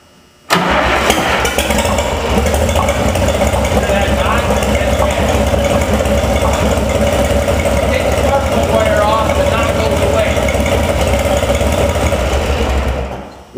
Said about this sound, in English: Once I pulled the spark plug wire off and got the power off that cylinder, then the piston wasn't banging.